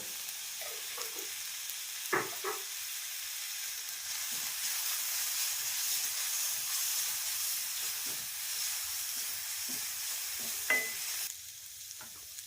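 Spices fry on low flame in a pan for a sprouted moong curry, a steady close hiss and sizzle running throughout, with occasional faint clinks of stirring.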